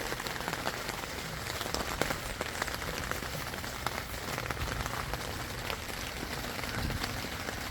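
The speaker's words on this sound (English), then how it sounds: "Rain's beating off pretty well." Rain beating steadily on a tent, a dense, even patter of drops with occasional sharper hits, fairly close and continuous throughout with no talking.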